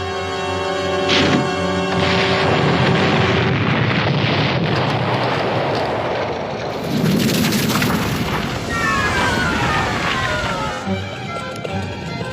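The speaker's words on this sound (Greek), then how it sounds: "ωραία μέρα για έκρηξη" A cartoon explosion goes off as a loud, sustained rumbling blast that fills the scene, with bright musical tones layered over it.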